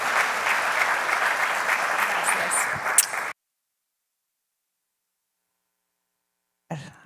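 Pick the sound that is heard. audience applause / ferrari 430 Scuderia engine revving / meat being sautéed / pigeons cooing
audience applause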